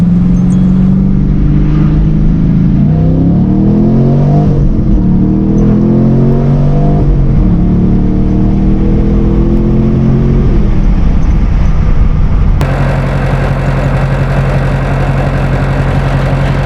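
A car engine idles loudly nearby, then revs up and down in rising sweeps before settling into a steady droning hum as it pulls away, with no one speaking.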